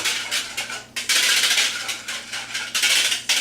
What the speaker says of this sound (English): I'm going to get a whisk. Just stir this up.